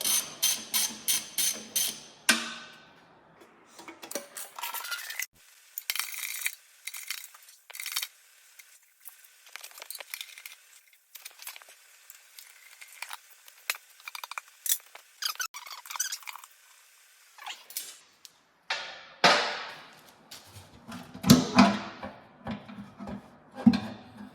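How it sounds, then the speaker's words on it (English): A John Deere 50, 60 or 70 tractor has its half-inch flywheel-cover bolts worked loose with a wrench, giving close, irregular bursts of ratcheting clicks and metal clinks separated by short quiet gaps, with no talking. "There's several 1/2-inch bolts, so we're just going to start taking those out."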